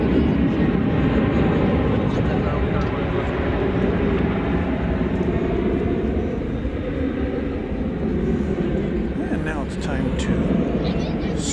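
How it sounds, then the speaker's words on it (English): Cargolux Boeing 747 cargo plane arriving at DFW Airport, a loud, continuous low jet roar that holds steady for the whole stretch, with a person talking over it. "747 Cargo Lux from Chicago O'Hare. And it's not too far away."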